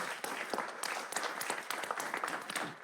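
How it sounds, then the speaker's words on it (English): A room full of people claps for scholarship recipients and their families at a city council meeting in Jackson, a steady, dense burst of applause filling the whole stretch with no talking over it. "Let's give them a round of applause"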